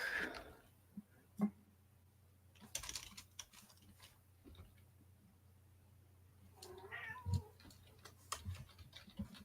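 A house cat meows and yowls insistently in an indoor room, with a couple of drawn-out cries near the start and again later, mixed with light keyboard clicking and faint background hum.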